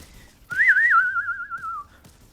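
A person whistles a single wavering, warbling note for about a second and a half, imitating the shots of a gun in Destiny 2; a short, loud, close whistle with brief quiet on either side.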